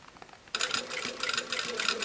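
A sewing machine understitches a dress neckline, starting abruptly and running in a close, steady, rapid needle rattle that keeps going to the end.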